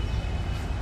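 Rumble of a Taipei MRT metro train near Chiang Kai-shek Memorial station, a steady low drone with broadband rail noise, fairly loud and continuous, no talk.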